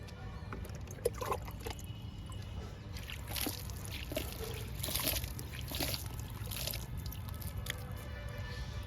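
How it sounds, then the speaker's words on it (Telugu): Water pouring from a can onto soil around tomato plants in a tub outdoors, a soft steady splashing trickle with faint background hum. "ఈ టబ్బుకి కూడా వాటర్ ఇచ్చేద్దాము"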